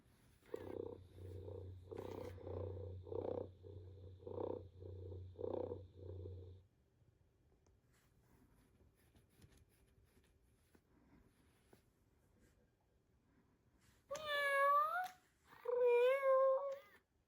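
A Joy for All Companion Pet robotic tabby cat gives a rhythmic series of mechanical purr-like pulses with a low motor hum, then after a quiet gap two loud, close meows.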